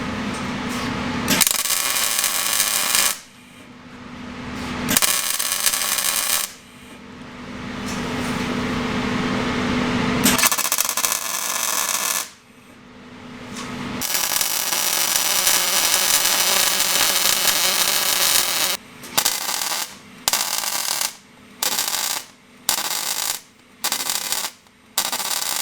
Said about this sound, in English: So we're going to go ahead and get this thing tacked into place and get it all welded up.